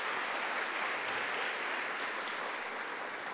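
Congregation applause at a Catholic church service led by a priest, a steady, diffuse wash of many hands clapping at moderate distance with no voices over it, sustained evenly for a few seconds.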